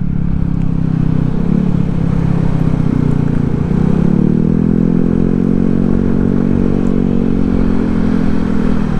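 A loud, continuous drone of many motorcycle engines on a road near a tunnel, humming and shifting in pitch as bikes pass close by during a holiday crowd, with clattering in the background and no speech.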